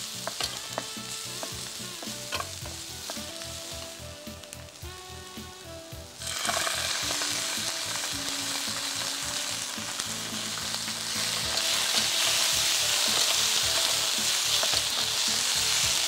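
Capsicum and tomato frying in a pan for a rice dish, a steady close sizzle with stirring scrapes and rhythmic utensil knocks. The sizzle grows brighter and louder partway through and continues without any talk.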